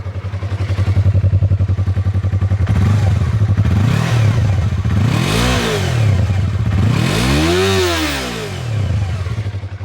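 A 2016 Yamaha R3 sport motorcycle engine idles with a steady rattle, then revs up sharply twice, each rev rising and falling in pitch, loud and close.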